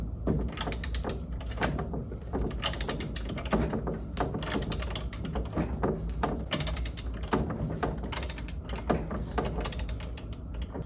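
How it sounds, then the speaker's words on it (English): A torque wrench clicks and ratchets while tightening a bolt to 65 on a Mercruiser Alpha outdrive lower unit. Close, repeated sharp mechanical clicks come in irregular bursts throughout. "we will know it's at 65 when the torque wrench clicks"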